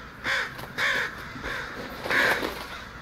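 A crow caws in the video game Death Stranding, four loud harsh calls spaced about half a second apart, close by and with no talk.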